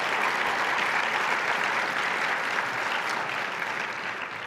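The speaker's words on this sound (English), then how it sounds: "Can we give him another round of applause?" A roomful of attendees at a benefit breakfast applauds continuously, a dense, even wash of clapping that holds steady and eases slightly near the end, with no talking.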